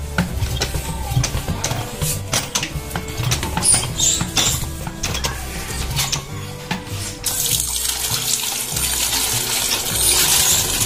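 Repaired hand pump being worked to draw water, with rhythmic metallic clanks and squeaks of the handle amid splashing and gushing water that turns into a steadier hiss near the end.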